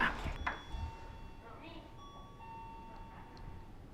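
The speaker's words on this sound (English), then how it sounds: "we have our own doorbell" A hotel suite doorbell rings with clear sustained electronic chime tones, fairly faint in a quiet room, joined by a few soft knocks and thumps and a brief murmur of a voice.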